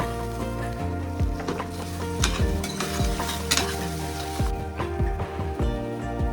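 Coconut fries with elephant foot yam in a pan for a South Indian sundakai masala curry, stirred with repeated close scraping strokes over a steady, lively sizzle.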